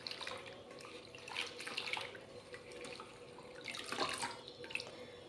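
Leaves being washed in a vessel of water, with intermittent splashes and swishing bursts of varying strength, fairly quiet and close, with no talk.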